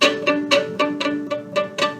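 Bowed string notes with a scratchy, breathy tone from the bow barely contacting the string, repeated short strokes about every quarter second, each attack bursting with airy high noise.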